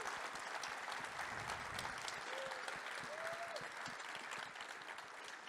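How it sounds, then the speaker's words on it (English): An audience at a Drupal conference opening ceremony breaks into steady applause that fills the whole stretch, many hands clapping together with a few voices faintly mixed in. "So let's give a little applause for these people putting this out."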